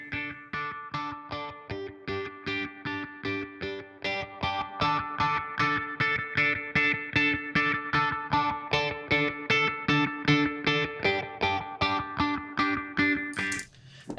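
A plucked electric guitar part on a country record, played with phaser and delay effects, a rapid, even stream of bright repeated notes with echoing tails running steadily throughout.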